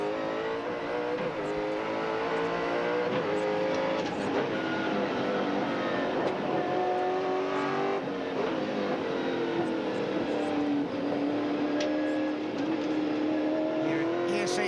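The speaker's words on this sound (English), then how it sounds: "It is great to listen to the sound of that engine." A 1997 Australian Touring Car Championship Ford V8 race car engine drones loudly and continuously at Mallala, pitch rising and falling as the throttle eases on and off, with faint commentary underneath.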